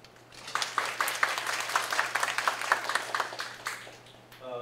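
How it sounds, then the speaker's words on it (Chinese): An audience at a tech conference session claps to welcome a speaker, a faint scattering of individual handclaps that swells briefly and then fades out. "掌声欢迎郭嘉麟先生"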